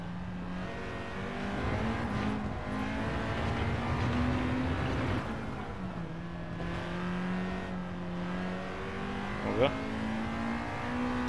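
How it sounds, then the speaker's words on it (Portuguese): In Gran Turismo 7, a Honda Integra Type R DC2 engine drones steadily at high revs on the Nordschleife, its pitch rising and dropping through gear shifts, with muffled speech heard beneath it. "Na reta eu faço um bocado de silêncio e vocês vão ouvir o ronco do Honda"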